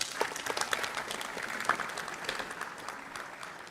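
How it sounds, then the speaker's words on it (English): At a university graduation ceremony, the audience breaks into sustained applause, a full, even roar of clapping from a large crowd, moderately distant and steady throughout. "Give him a round of applause."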